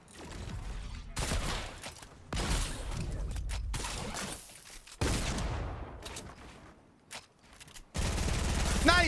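Weapons fire in the video game Fortnite in loud, separate blasts and short bursts, each followed by a gap, with a voice briefly audible.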